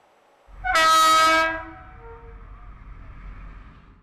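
The Van Lake Express, a passenger train on the long Ankara to Tatvan route, sounds one loud, sustained horn blast of about a second, followed by a steady rolling rumble of the train.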